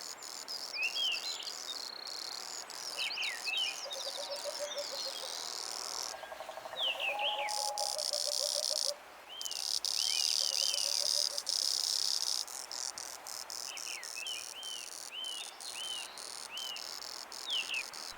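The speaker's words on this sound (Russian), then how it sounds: "На этом участке живет большое количество цикад и различных видов насекомых." A steady, high-pitched chorus of cicadas and other insects fills floodplain vegetation of bamboo grass, meadowsweet and Sakhalin knotweed on the Kuril Islands. Scattered bird chirps run through it, and it drops out briefly midway.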